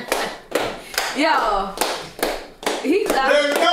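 Sharp hand claps, a few spaced single smacks that land among a lively talking voice, with the speech staying prominent over them.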